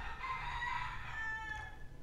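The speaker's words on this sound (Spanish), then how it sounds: "gloria a Dios por lo gallo" A rooster crows once in a long, drawn-out call, fairly clear against a low background rumble, with no voices.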